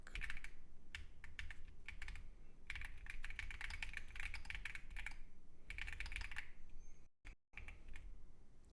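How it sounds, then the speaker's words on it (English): Fast typing on a Keychron Q15 Max ortholinear mechanical keyboard, dense rapid clacking keystrokes in bursts with short pauses, close and alone, with a brief gap near the end. "now I'm actually going to try to type as fast as I can"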